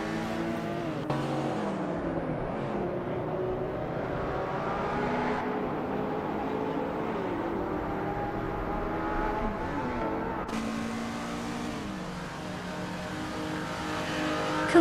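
Racing-game car engines roar continuously through a race, with layered revving tones rising and shifting as several cars accelerate and pass, loud and steady throughout with a brief squeal of tires.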